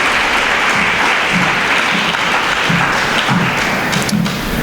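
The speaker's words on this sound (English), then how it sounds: "We applaud our team this morning." Steady, dense applause from a large school audience at a speech day, honouring the athletics team; continuous, loud and close, with no voices over it.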